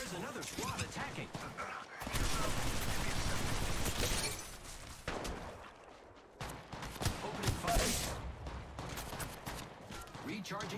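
Bursts of automatic gunfire from an attacking squad in the Apex Legends Mobile video game, a dense fusillade with crashes and thuds that swells and fades over roughly ten seconds.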